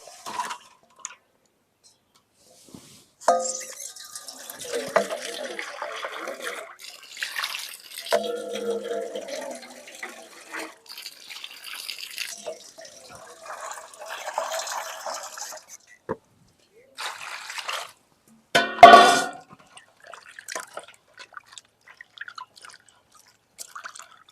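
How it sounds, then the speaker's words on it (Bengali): Cut rohu and tilapia pieces, freshly caught from a village pond, are washed by hand in water, giving irregular splashing and dripping in bursts with quiet gaps, ending in one louder splash. "মাছ খুব সুন্দর করে ধুয়ে নিছি"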